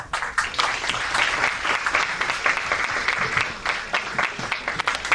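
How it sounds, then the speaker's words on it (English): A conference audience applauds a speaker at the end of his talk at the IHFS 2024 event; sustained, dense clapping from a large crowd, steady and fairly loud throughout. "Round of applause for Mr. Menon."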